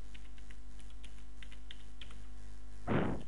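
A computer keyboard being typed on while renaming a file, with a short run of faint, light key clicks followed by a single louder thump near the end.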